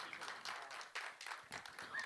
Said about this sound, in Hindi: जोरदार तालियों के साथ इनका स्वागत होना चाहिए.